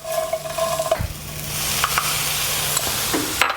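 Crushed garlic is stirred in a hot pan, a soft steady sizzle with scraping stir sounds close by, at moderate level, with no voices.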